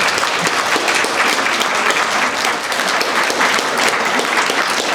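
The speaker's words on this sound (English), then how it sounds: "So let's hear it for Lupe." Steady, dense applause from a conference audience honoring an award recipient fills the whole stretch at close range, with no talk over it.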